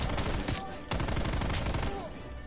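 Dense, continuous automatic gunfire from a shooter video game, loud and unbroken for a couple of seconds apart from one brief dip, with layered shots overlapping.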